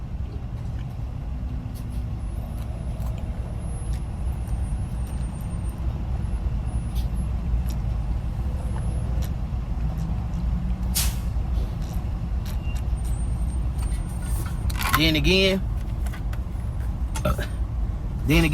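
Steady road traffic rumbles nearby throughout, with sharp hissing air-brake releases from heavy vehicles late on, while someone talks briefly over the noise.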